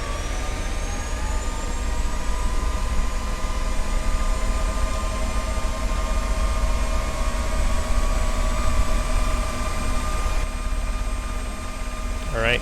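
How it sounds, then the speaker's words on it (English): A helicopter in the military shooter Squad spins up and settles into a hover, a steady, loud engine and rotor drone with a high whine that holds unchanged throughout. "So to turn the helicopter on, we'll press A. Helicopter will spin up."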